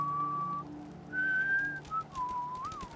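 A Fallout 4 game character whistles a short wandering tune of several clear held notes and slides, close and alone over a low steady hum.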